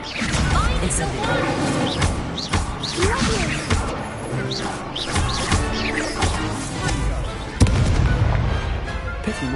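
In the Hogwarts Legacy dueling tournament, an Incendio fire spell goes off in loud bursts of fiery blasts and crackling whooshes amid busy combat effects, with a heavy impact near the end.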